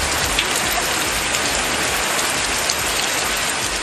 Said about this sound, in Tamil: திடீரென மிதமான மழை பெய்தது